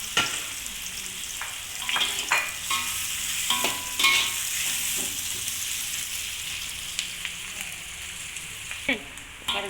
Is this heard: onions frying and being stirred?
yes